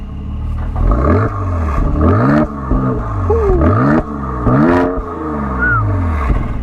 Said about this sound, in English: that's from a 3-liter bi-turbo V6